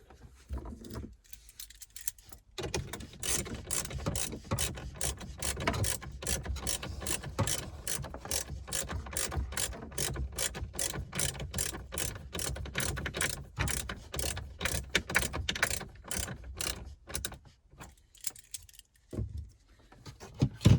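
Long, steady run of fast ratcheting clicks as a screw is driven back into the dash of a 2022 or later Ford Super Duty, close and moderately loud, with brief pauses near the start and the end.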